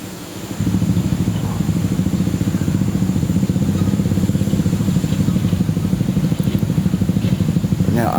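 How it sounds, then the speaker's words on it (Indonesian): A small motorcycle carries a bride along a narrow path through rice fields, its engine chugging close by in a steady, even putter after a brief quiet start, with no voices. "Aksesnya cuman jalan kaki, kita pakai roda 2 motor."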